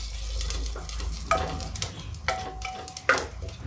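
Bay leaves, cloves, mace, cumin and fennel seeds sizzle in hot oil in a home kitchen pan, a steady crackling fry broken by a few brief scraping stirs, with no talking.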